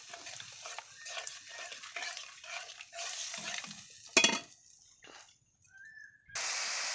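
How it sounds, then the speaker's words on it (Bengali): Spiced fish curry gravy with garam masala and meat masala, boiling in a pan and stirred; soft bubbling and sizzle with repeated scraping strokes, a louder clatter midway, then a steadier hiss near the end. "ফুটে এসছে ঝোলটা ভালোভাবে।"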